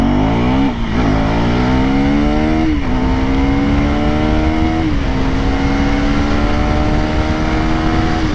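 A KTM Duke 390 motorcycle accelerates hard from a standstill, climbing through several gears with distinct rising pitch sweeps and brief drops at each shift, loud and continuous from the rider's position.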